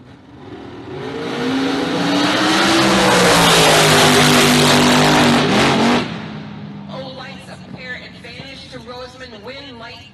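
Bracket-racing dragsters at Immokalee Regional Raceway roar past at full throttle, building to a loud sustained blast that cuts off sharply near the six-second mark, followed by fading engine noise with a track announcer's voice.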